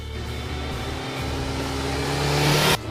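A 1980 Suzuki GS 1000 S motorcycle engine drones loudly, its pitch climbing gradually as it revs higher, then cutting off abruptly near the end.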